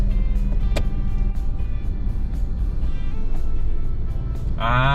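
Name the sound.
road traffic on the SLEX expressway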